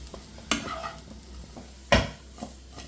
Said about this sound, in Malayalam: ഇതുപോലെ ഒന്ന് മിക്സ് ചെയ്യുക